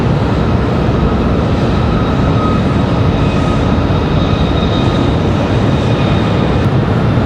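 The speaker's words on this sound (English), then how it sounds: "I'll give you the last couple of seconds here of Southwest departure." A Southwest Airlines jet departs Raleigh-Durham International Airport with a loud, steady broadband engine roar that stays constant throughout, heard outdoors at some distance with no talk.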